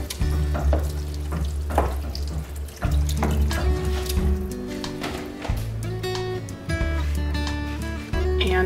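Four cups of water pour into a cooking pot holding leftover corn casserole, a continuous splashing rush close by, with clinks and stirring sounds mixed in.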